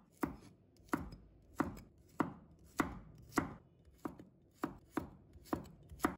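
Garlic is chopped into small pieces with a knife: eleven evenly spaced, crisp chops on a board, close and clear with nothing else around them.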